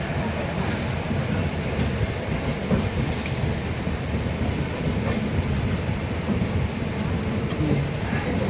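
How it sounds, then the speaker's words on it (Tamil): A long coal-laden freight train rolls past at a steady rumble, wheels clattering faintly with an occasional high squeal, continuous from start to finish. "நிலக்கரி ஏற்றிய சரக்கு ரயில்."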